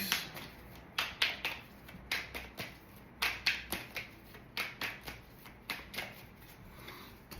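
A tarot deck is shuffled and cards drawn, producing quick riffling bursts and crisp card slaps in irregular clusters, close and fairly quiet, with no talking.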